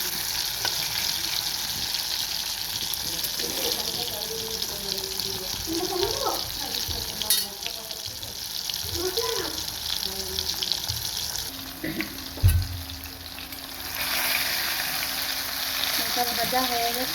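Spices frying in hot oil, a continuous soft sizzle with faint clinks and watery hiss, while a voice murmurs briefly in the background.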